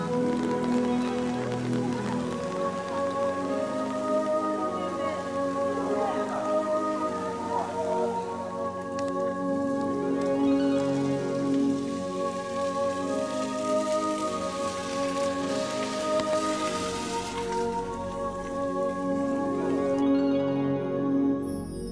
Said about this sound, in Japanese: あいにく出発直後から雨が降り始めました。